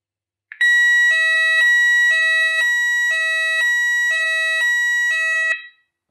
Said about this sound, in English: we're all ready to go with our sounder unit